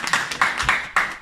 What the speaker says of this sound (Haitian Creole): Un gros applaudissement,